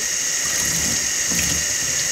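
Cold tap water runs in a steady broadband hiss, rinsing out a screen-printing screen being developed, continuous and fairly close with no talk.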